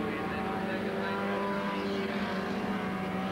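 Mini 850 race cars run side by side at Mondello Park in a 1981 race, a steady loud droning engine roar holding constant pitch throughout, slightly distant, with no commentary audible.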